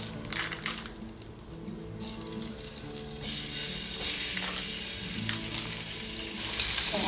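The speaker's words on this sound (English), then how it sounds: "now I'm going to add a pound of breakfast sausage" A pound of breakfast sausage sizzles and fries steadily in a pan, with occasional stirring, and the frying grows louder and brighter partway through; no talking.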